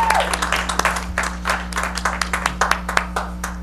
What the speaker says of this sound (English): Little round of applause for Min.